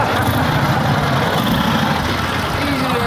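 A revived flathead Harley motorcycle engine, once flooded and left sitting for ten years, runs with a loud, steady, close-up rumble that stays continuous throughout.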